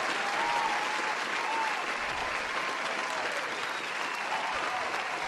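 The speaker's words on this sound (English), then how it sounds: "I gotta give you an applause for that." Steady applause from a crowd, a dense wash of clapping held at an even level for several seconds, fairly quiet and distant, with no voices over it.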